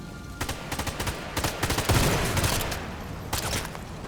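Rapid bursts of gunfire from the Sniper Elite 5 video game on the Among the Rubble map crackle loudly and close, clustered volleys with a heavier blast midway, then more shots near the end, with no talking.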